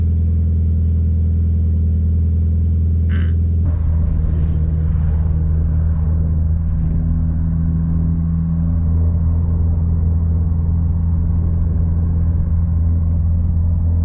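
A 2005 Mitsubishi Lancer Evolution 8 driving on a fall day, heard from inside as a steady low engine drone and road rumble that shifts slightly partway through and then holds constant.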